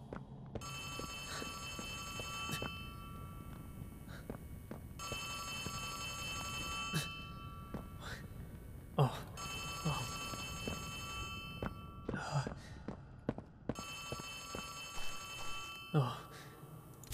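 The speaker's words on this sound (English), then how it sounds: "Phone?" A telephone in the horror game Poppy Playtime rings in repeated long bursts separated by short pauses, bright and insistent over a murky ambient backdrop, with footsteps and small knocks scattered between the rings.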